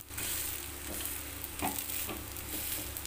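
Vada frying in oil in a pan, a steady broadband sizzle running throughout at moderate level with a few brief stirring or pressing touches, no voices.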